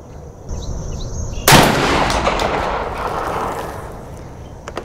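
A SPAS 12 shotgun fires one sharp, loud blast up close, and the boom rolls off slowly into outdoor quiet.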